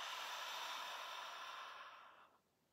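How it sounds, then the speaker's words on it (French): A long, steady exhale out through the mouth during a guided breathing exercise: a soft, close breathy hiss that holds and then fades away at the end. "Expiration par la bouche."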